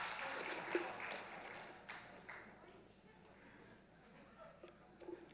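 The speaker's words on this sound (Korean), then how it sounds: "박수." A congregation at a Korean church worship service applauds, a moderate patter of clapping that fades and thins after the first couple of seconds, with scattered voices and room noise around it.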